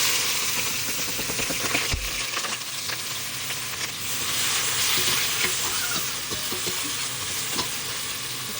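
Two medium grated onions sauté in about five to six tablespoons of hot oil, making a continuous loud sizzle close up with occasional stirring scrapes and no talking.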